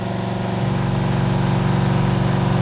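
A running engine with its number one injector disabled keeps a steady, loud, slightly uneven rhythmic drone throughout, with no talking.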